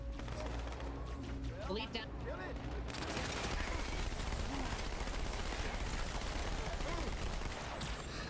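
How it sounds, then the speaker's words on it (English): Rapid gunfire in the Halo 2 video game, a dense sustained rattle of shots running through most of the stretch, with game sounds and brief talk at the start. "Let's pepper him with bullets!"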